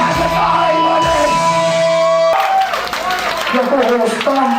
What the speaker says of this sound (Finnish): Aplodit ryyppäispöydälle!